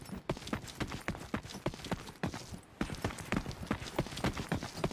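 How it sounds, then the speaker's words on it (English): Footsteps in the video game The Cycle: Frontier, a rapid, steady run of crunching steps, fairly close and even, pausing briefly about midway before continuing. "I can hear footsteps"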